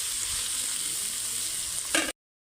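Water lily stems fry in a pan with an even, soft hiss that runs unbroken, ending in a short stir or clatter just before the sound cuts off.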